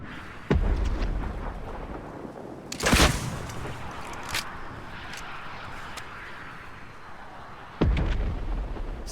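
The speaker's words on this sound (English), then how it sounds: "What I'll do is just spam rockets in his general direction." Rockets fired over and over in the video game Fortnite: a few sharp, booming blasts spaced several seconds apart, each with a short rumbling tail, set over a steady background roar and no talking.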